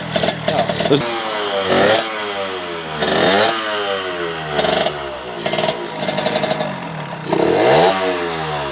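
Someone kicks a scooter engine repeatedly, each kick giving a short clattering sputter that doesn't catch. The bursts come in rapid clusters across the stretch, close and loud.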